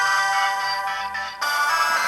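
An MP3 song plays through the speaker of an Alcatel One Touch Idol Ultra phone, bright tonal music with a thin low end, loud and continuous with a brief dip before swelling again, heard without talk.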